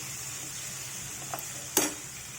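Grated raw mango fries gently in shallow oil for an ivy gourd and mango chutney, giving a faint, steady sizzle broken by a couple of brief stirring clinks, with no voices.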